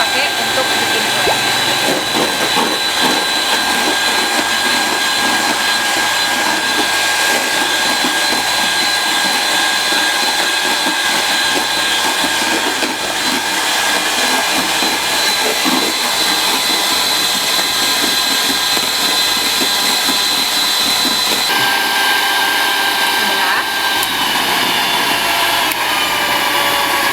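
An electric mixer whirs steadily and loudly through cake batter in a home kitchen, a constant motorized drone with no breaks.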